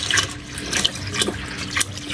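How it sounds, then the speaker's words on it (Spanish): Water pouring into a cooking pot for chicken broth, a continuous liquid splashing with gurgling bursts and small bright spatters, fairly close and moderately quiet. "Estoy poniéndole el agua para el caldo y vamos a echar bastante para que alcance."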